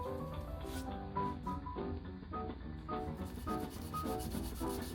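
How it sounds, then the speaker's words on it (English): Repeated back-and-forth strokes of sanding on painted Art Deco wooden furniture, a rhythmic scratchy rubbing close by, steady and moderately quiet. "Got a little bit more sanding to do"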